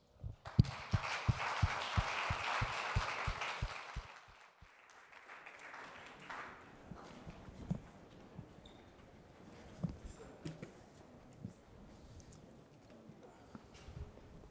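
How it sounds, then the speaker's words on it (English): A burst of audience applause at a festival talk in Lisbon for about four seconds, then it dies away into a quiet room with faint murmurs and shuffling. "Big round of applause, please."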